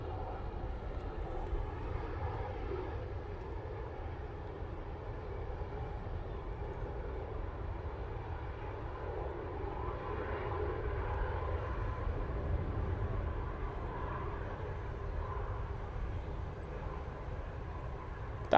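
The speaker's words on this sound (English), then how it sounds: "We've got this Aer Lingus coming in." Aer Lingus airliner coming in to land at Manchester Airport, a faint, steady distant engine roar that swells gently in the middle and fades, heard alone without voices.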